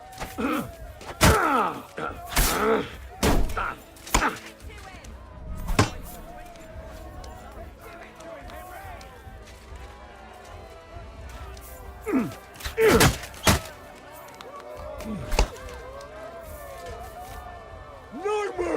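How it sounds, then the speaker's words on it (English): Clashing one-handed weapons in a Kingdom Come Deliverance 2 duel, with sharp chopping strikes and thuds arriving in irregular bursts, some near and loud, mixed with voices and crowd noise. "The duel with one-handed weapons can begin."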